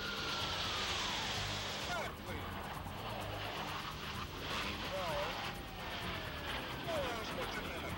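An F-18 Hornet fighter jet with 32,000 pounds of thrust flies airshow maneuvers, a loud continuous roar with rising and falling pitch, heard under a narrator's voice.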